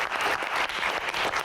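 An audience applauds steadily, a dense wash of clapping from many hands throughout, with no voices on top.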